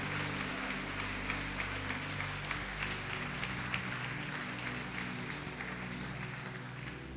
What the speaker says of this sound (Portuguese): Quem crê pode aplaudir e glorificar ao Senhor Jesus Cristo